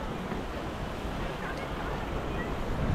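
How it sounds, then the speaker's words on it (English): Big ocean waves crashing on rocks in autumn or winter, a steady loud roar of surf with wind buffeting the microphone throughout, close and without pause. "Here's some big waves coming in now."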